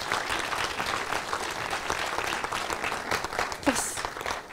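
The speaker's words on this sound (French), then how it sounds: "je pense qu'on peut applaudir toutes les intervenantes" Audience applause for the panel speakers at a round-table conference in Montpellier, a steady dense wash of clapping from a room of listeners lasting throughout, with faint murmurs mixed in.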